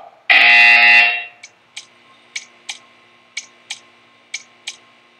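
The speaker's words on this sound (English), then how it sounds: "You will hear a buzzer." A long loud electronic buzzer in the video game Portal 2 blares for about a second, followed by a series of short, evenly spaced beeps or ticks.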